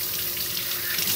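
Water runs steadily from a kitchen tap while canned jars of green beans are rinsed, a close, continuous hissing splash.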